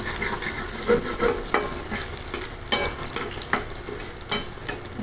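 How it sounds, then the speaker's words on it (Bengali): Water spinach (kolmi shak) greens frying with dried chili in a pan: a continuous, fairly loud sizzle and crackle, with irregular stirring scrapes over about five seconds and nobody talking. "ভাজি করতেছি।"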